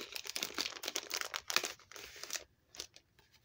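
Thin paper envelopes being handled close up, a quiet burst of crisp crinkling and rustling that fades to near silence before a few last soft crinkles.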